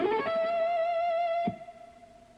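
Distorted electric guitar with effects holds one sustained, harmonic-rich note after a quick slide, then is choked off, leaving a faint ringing tail; loud and close, no voices.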